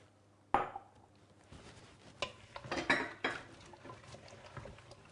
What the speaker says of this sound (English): Now I'm going to add a little more stock.